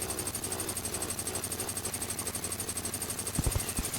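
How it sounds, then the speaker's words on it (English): Photon Ripper chainsaw weapon from the Terraria Calamity mod buzzes in a rapid, steady mechanical rattle throughout, with a few heavier thumps near the end. "I mean, it makes sense, it's a chainsaw"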